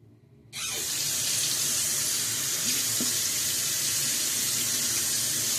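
Water runs from a bathroom tap for rinsing after a shave with a razor, starting abruptly and then flowing in a steady, close, loud rush with faint splashes and no talk.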